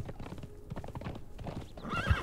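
Horse in the video game Conan Exiles, hooves clip-clopping steadily throughout, then a short whinny near the end, with a voice faintly in the background.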